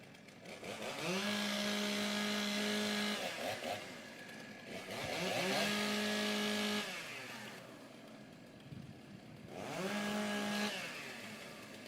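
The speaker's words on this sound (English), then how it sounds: "Warm up your saws." Stock chainsaws warming up at a timbersports rookie competition, with three loud bursts of revving engine, each held for about two seconds and then easing back to idle between runs.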